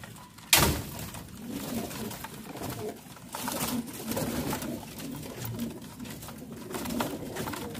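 Pigeons coo softly and repeatedly over a steady outdoor hum, after a sharp bump near the start; no voices.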